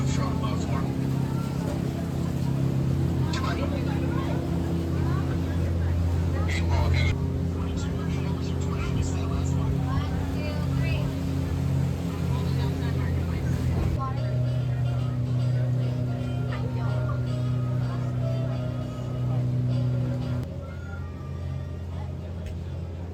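A boat motors toward Disney Springs at Walt Disney World, a steady droning engine hum with low rumble and water wash, close and continuous throughout, easing slightly near the end, with faint background voices.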